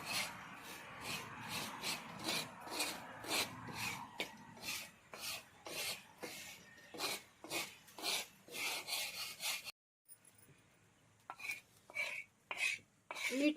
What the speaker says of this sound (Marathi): त्याच तव्यावर मीठ भाजून घेऊ